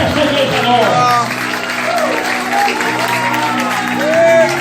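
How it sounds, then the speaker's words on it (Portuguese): Church congregation applauding during a youth retreat evening service, a loud, sustained wash of clapping with cheering voices and shouts mixed in over a steady background hum. "dá uma salva de palmas para ele"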